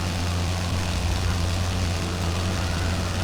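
WWI biplane propeller engine in the Wings Over Flanders Fields flight game, running damaged with reduced power, a steady loud droning hum with low harmonic tones held throughout, no voices.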